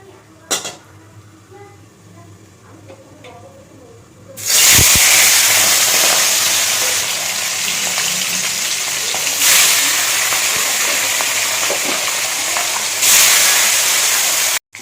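Fish slide into hot oil in a kadai and fry with a sudden, loud hiss that settles into a continuous sizzle, swelling again as pieces are added or moved; before it, quiet kitchen sounds.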